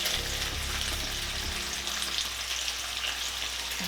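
Bacon sizzling and crackling steadily in a pan at a home breakfast stove, a continuous bright hiss with a low rumble underneath, no talking.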